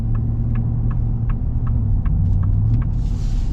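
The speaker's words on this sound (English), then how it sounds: "this V8's fun. Again, it doesn't have the torque of the Power Stroke, but it's just fun to listen to the noise." Steady low rumble of a 2025 Ford Super Duty Tremor pickup's 7.3L Godzilla V8 at low revs while driving, a continuous smooth drone with faint ticking, no talk.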